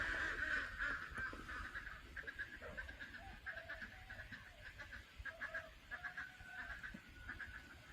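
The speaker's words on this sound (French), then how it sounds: "Les canards là-bas." Ducks beside the road somewhere between Hanoi and Laos call in faint, repeated honking quacks, scattered over a quiet outdoor background with no voices.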